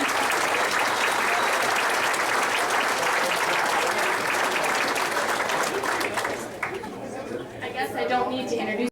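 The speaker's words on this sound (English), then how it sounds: "let's give her a huge round of applause" A banquet audience at the Brown County Speedway racing banquet breaks into a loud, sustained round of applause with crowd chatter mixed in, tapering off near the end as a voice begins to speak.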